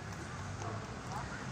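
Horses clip-clop in a quick, steady rhythm on a ride circling a lagoon in a park, set against a dense wash of crowd noise and voices.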